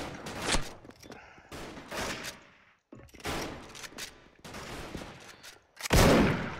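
Bursts of rapid automatic gunfire from a Thai online shooter game (Special Force), arriving in dense rattling volleys separated by brief pauses, loud and close, with a final heavy burst at the end.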